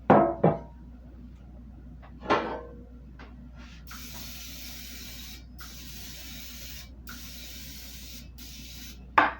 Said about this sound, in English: I've got my spray here